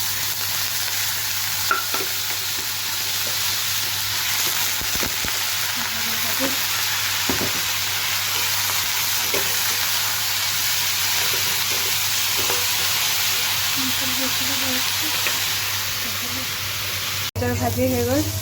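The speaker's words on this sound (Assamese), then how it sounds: "ভাজি হৈ গ'ল। বিন গাজৰ ভাজিটো দুপৰীয়াৰ ব্ৰেকফাষ্ট হৈ যাব।" Green beans and carrots are stir-fried in a pan, making a steady, close sizzle broken by occasional scrapes and clinks of stirring.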